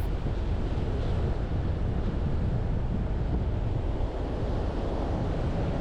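Ocean surf rolls along the Namibian coastline beside the desert, a constant loud roar of breaking waves with heavy wind buffeting the microphone throughout.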